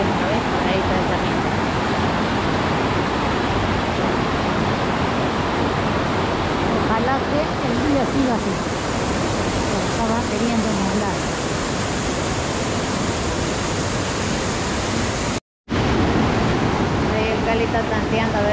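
A cold mountain stream rushes loudly and continuously along a path toward waterfalls, a dense broadband roar close by with a brief dropout near the end.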